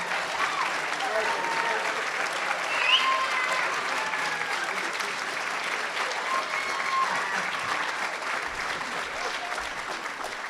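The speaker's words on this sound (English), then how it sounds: "Here he comes, Phillip Martin, with a cheering section." Sustained applause and cheering from an awards ceremony audience at a broadcasters' hall of fame event, a broad steady wash of clapping with scattered voices mixed in.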